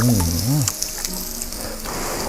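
Crispy bacon sizzles on a charcoal-fired Thai mookata grill pan, a steady hiss of frying fat running throughout, with a voice briefly heard at the start.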